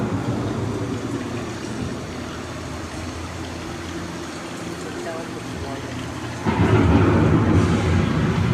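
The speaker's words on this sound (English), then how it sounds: "The approaching storm may seem violent and destructive to us" Rumbling storm ambience with steady rain and low thunder inside the Living with the Land boat ride at Epcot, swelling suddenly louder near the end, with a narrator's voice over it.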